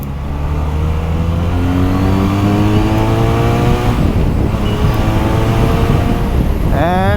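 A 2023 QJMotor SRK400 naked motorcycle engine runs close up with a steady, loud harmonic rumble, then revs climb sharply in pitch near the end.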